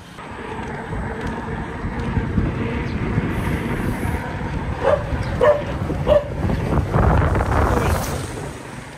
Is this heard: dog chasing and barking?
yes